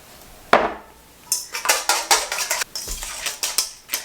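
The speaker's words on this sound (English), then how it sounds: "in a large bowl, whisk the eggs until no streaks of white remain" Eggs are whisked in a large bowl, starting with one sharp clink and then a quick series of rhythmic metal-on-bowl taps, close and fairly loud.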